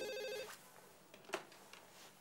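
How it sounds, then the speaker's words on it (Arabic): A telephone rings once with bright, regular bell-like pulses over the first half second, then a quieter room with a few faint clicks and a short sharp knock. "لحظة واحدة بس أرد على التليفون"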